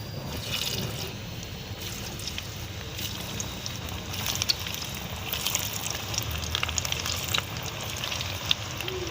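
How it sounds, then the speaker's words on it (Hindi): Boiled spiced potatoes fry in hot mustard oil, giving a steady, close, dense sizzle with light crackle and faint liquid bubbling throughout, and no voices. "सरसों ऑयल में इनको फ्राई करेंगे"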